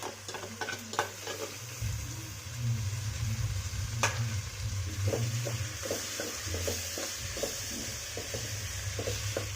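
Ginger garlic paste hits the hot pan and sizzles loudly and steadily, with a spoon scraping and stirring in repeated light clinks through the sauté.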